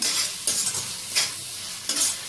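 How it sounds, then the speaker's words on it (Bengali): Thick pumpkin halwa is stirred in a frying pan under a soft sizzle, with four distinct scraping strokes of the spoon at roughly regular intervals, close and clear. "এইভাবে তো কন্টিনিউ নাড়াচাড়া করাই লাগবো"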